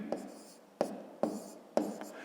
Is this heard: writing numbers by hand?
yes